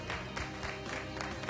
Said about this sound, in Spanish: Fuerte el aplauso para Luciana Geuna, para Mauricio D'Alessandro